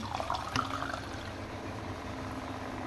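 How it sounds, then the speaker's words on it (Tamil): Water is poured into a pan of cooking cauliflower gravy, a soft, brief splash and trickle at the start, then fading into a faint, steady background hiss. "தண்ணி லைட்டாக சேர்த்துருவோம்"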